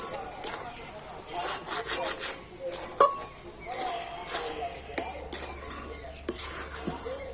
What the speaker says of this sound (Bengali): মানে এইভাবে একটু ভালো করে মিশে নিতে হবে